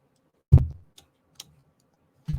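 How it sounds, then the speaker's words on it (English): Computer mouse clicks during a technical hitch with a lost display: one firm click, then two faint sharp ticks and another click, spaced irregularly against near silence. "Try clicking the mouse again."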